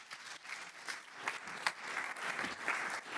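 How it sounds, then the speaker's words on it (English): Audience applause at an in-person sales and revenue leaders event, welcoming a speaker named Alice. It is fairly quiet and distant, a sustained patter with a few sharper claps popping out. "Let's have a round of applause for Alice."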